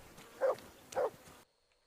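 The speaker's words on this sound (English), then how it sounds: "Alright, this dog is gonna drive me insane." A dog in the video game Kingdom Come: Deliverance gives two short, close barks about half a second apart, then the sound cuts to silence.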